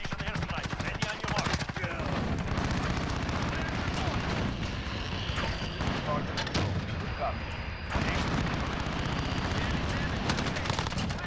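Shotgun and automatic gunfire in Call of Duty: Modern Warfare Hardpoint on the Shoothouse map, loud rapid bursts of shots stacking into a near-continuous barrage with explosive booms, a brief lull midway, and a voice talking over it.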